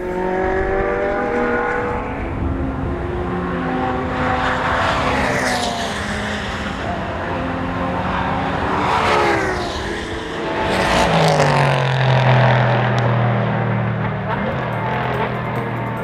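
A Ferrari LaFerrari's V12 racing engine at high speed in top gear, a loud continuous roar with rising and falling pitch sweeps as the car accelerates and shifts, sustained throughout.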